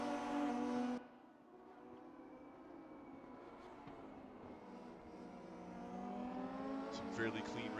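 Lotus GT4 race cars circle Bilster Berg in RaceRoom, a steady layered engine drone with shifting pitch under a commentator's continuous talk.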